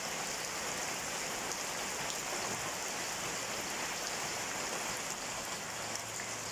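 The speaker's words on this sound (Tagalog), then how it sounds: "Ayan, ang lakas ng ulan." Heavy rain pours down in a steady, dense hiss that fills the whole stretch without a break, with water drumming on surfaces and no talking.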